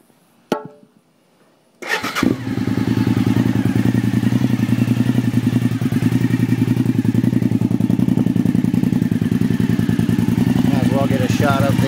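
A custom 1997 Suzuki TL1000S V-twin motorcycle starts after a brief clatter and settles into a loud, steady, close-up engine idle with a throbbing pulse that carries unbroken to the end.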